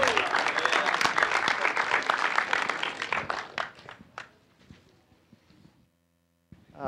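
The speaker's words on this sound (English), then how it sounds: "Some people like to applaud at this point." A conference audience claps loudly for about four seconds, the applause thinning into scattered claps before fading to near silence.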